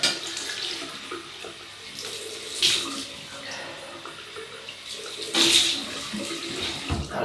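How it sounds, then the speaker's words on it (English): Tap water runs in a sink for a cold rinse during a wet shave with a vintage British Gillette open-comb razor, a steady close gush with two louder surges of splashing. "Cold water rinse."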